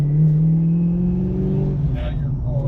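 A worn 1988 Mustang GT drives with a tired transmission, a steady low engine drone and whine running throughout, close and loud, with a brief rattle near the end.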